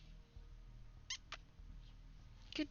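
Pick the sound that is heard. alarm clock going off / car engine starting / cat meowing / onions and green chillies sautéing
cat meowing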